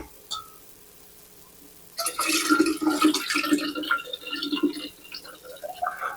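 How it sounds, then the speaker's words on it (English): Freshly boiled tea is poured from a large pitcher through a strainer, a close, splashing stream of liquid that starts abruptly and runs for several seconds, with a faint knock just before. "We can pour a tea up."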